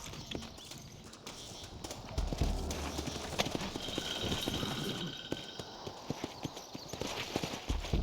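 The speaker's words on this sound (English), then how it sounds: "Looks like Carlos left us some horses." Horse hooves clip-clopping in the Red Dead Redemption video game in Mexico, a steady run of close, sharp hoof beats over rough ground amid rattling tack and gunfight ambience.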